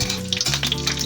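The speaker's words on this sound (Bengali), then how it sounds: "5 ফোড়ন দিয়ে দিলাম" Panch phoron whole spices frying in hot oil in a kadai with two split green chillies, stirred; a steady close sizzle with light scraping stir sounds throughout, no talking.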